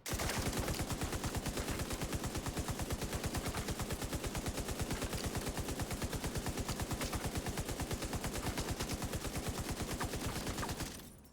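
A high-rate automatic weapon fires in The Division 2, one rapid, even burst of shots lasting about eleven seconds that stops abruptly, loud and close with no talk.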